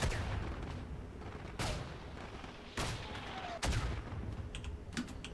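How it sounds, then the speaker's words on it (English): Mortar fire in the hardcore WWI shooter Isonzo: several heavy broadband blasts at irregular intervals over a constant battlefield rumble, with faint clicking noise between them. "That must be mortar from our side."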